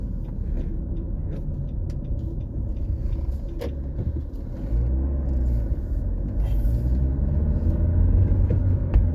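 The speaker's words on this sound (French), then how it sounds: "Je vais laisser passer une voiture de reco." A rally reconnaissance car for the Morillon–Samoëns stage of the 2023 Rallye du Mont Blanc passes on a mountain road. Its low engine rumble grows steadily louder over a constant in-car drone, with no talk.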